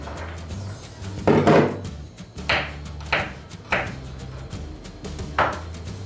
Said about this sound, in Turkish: Şimdi de sarımsaklarımı ince ince kıyıyorum.